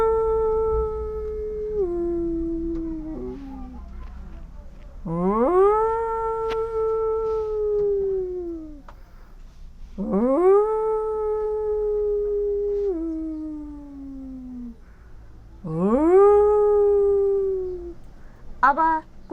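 A person imitates a jackal howling with the voice: long, wavering, rising-then-falling howls, three or four of them in sequence with brief gaps, close and fairly loud, with no other talk.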